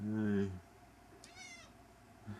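Cats loaded in travel cages for a cross-country move meow: a strong, close meow at the start and a thinner, higher meow a moment later, with quiet background noise.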